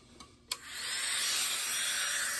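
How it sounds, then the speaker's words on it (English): RAM micro grinder, a handheld rotary carving tool, used in detailing a carved wooden wren's breast feathers: a couple of faint clicks, then the motor spins up into a steady, high, thin whine that continues to the end. "So I'm going to put this in my RAM micro grinder."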